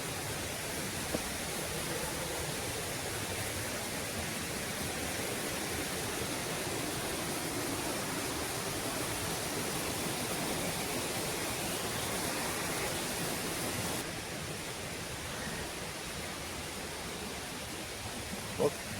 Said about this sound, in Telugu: వాటర్ ఫాల్కి వచ్చేసాం రా